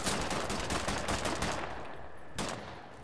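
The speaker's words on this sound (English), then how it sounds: "Is that not fully auto? It's an assault rifle." An assault rifle in Wolfenstein The New Order fires fully automatic in a rapid, loud stream for about a second and a half, fades, then cracks once more in a short final burst.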